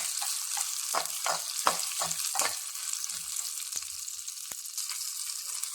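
Slit, salted green chillies sizzle in hot oil in a pan, a steady bright hiss broken by several quick scraping strokes of a spoon stirring them; close, with no voices.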